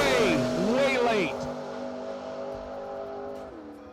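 A drag race car running the quarter mile at a New Year Nationals event roars past loudly, its engine pitch sweeping up and falling as it passes, then fading into a steady distant drone.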